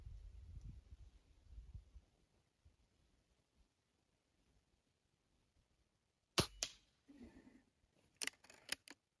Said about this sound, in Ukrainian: 7 штук на 20 метрів. стрільба з опору.